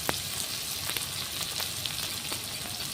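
Onions with salt and turmeric frying in a pan for an egg dish, giving a steady close sizzle with occasional soft stirring clicks.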